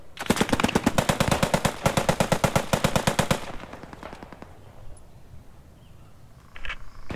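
A Bren light machine gun in the World War II shooter Squad 44 hammers out a loud, rapid burst of evenly spaced shots for about three seconds, then stops, leaving a faint lull and a few distant pops.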